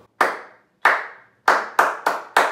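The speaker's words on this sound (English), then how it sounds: "Let's try clapping this rhythm one more time." Hands clap a rhythm of one long held beat followed by four short quick ones, six crisp close claps with ringing decay, the last four bunched tightly together, no voices.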